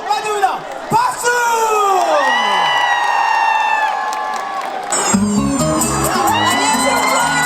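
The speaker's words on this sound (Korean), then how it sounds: "더 큰 박수와 환호성으로 맞이합니다. 박수!" A large crowd at a beer festival cheers, whoops and shouts loudly and continuously, with an amplified voice over the din and music kicking in during the final seconds.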